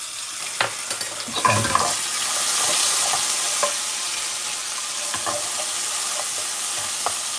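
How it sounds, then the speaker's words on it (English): Ginger garlic paste sizzles and fries in a pan while being stirred for tamarind chicken. A steady crackle runs throughout, with scattered clinks and scrapes of stirring, and a brief remark is spoken. "I'm going to cook it until the sizzling stops and the rawness, raw smell goes away."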